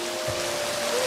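Rain falls in a scene from the Pixar animated film Luca, a steady, hissing wash of drops that fills the background evenly alongside a faint constant tone.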